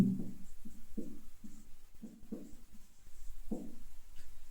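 Hand writing out a maths solution: short, close scratchy strokes come in quick irregular bursts with brief pauses between them, and no voices.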